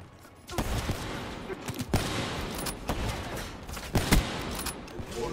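Gunfire in Black Ops 3 rings out in irregular bursts of sharp, close shots, several separate volleys spaced across a few seconds over a busy background.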